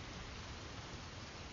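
A cozy rain playlist plays a steady, even hiss of rainfall, soft and continuous without pauses or distinct drops, heard alone with no voices.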